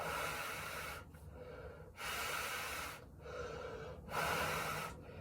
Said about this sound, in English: one of the things I always do with fit checking, breathe out quite a bit